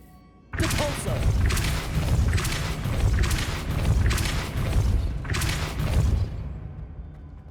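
A Depulso repelling spell cast in Hogwarts Legacy: an abrupt loud burst followed by a series of rolling booming thuds and crashing impacts that swell and fade, ending in a quieter tail.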